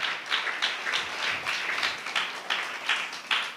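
Church congregation clapping hands in thanks during a Tamil worship service, a steady rhythmic pattern of strong claps pulsing roughly twice a second, loud and close with no speech over it.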